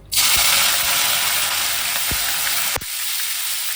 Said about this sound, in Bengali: তেলটা একটু গরম হলেই এইগুলো ফোড়ন দিয়ে দেবো। সাদা জিরে, 1 টুকরো দারচিনি আর কয়েকটা রসুনের কলি।